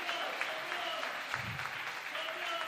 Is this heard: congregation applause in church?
yes